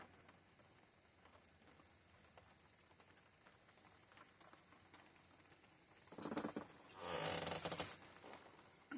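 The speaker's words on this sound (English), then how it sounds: "It's raining again." A burst of rain patters and rattles on a roof for a couple of seconds, rising loud against a quiet background, then fades.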